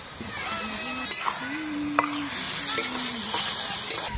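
Meat scraps with turmeric and salt sautéing in a pan, a continuous sizzle with stirring clinks and scrapes, a voice talking over it.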